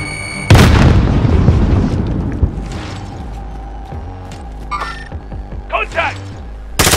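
A grenade explodes in Call of Duty: Modern Warfare with one loud, close boom and a long rumbling decay, followed by scattered game sounds and short electronic beeps.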